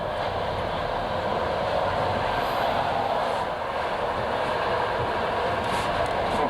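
Soviet-style passenger train carriages built in East Germany rumble steadily while running, a loud continuous roar of wheels and car noise with no clear pauses and no talk.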